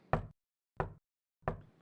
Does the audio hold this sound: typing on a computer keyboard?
no